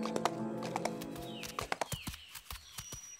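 Cartoon horse hooves clip-clop in a steady, moderately paced trot, crisp taps repeating over a soft background of ambient music and effects, with no voices.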